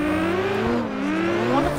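A car engine in CarX Drift Racing holds a steady high-rev whine through a drift, its pitch wavering up and down with throttle, loud and close with faint tire noise beneath.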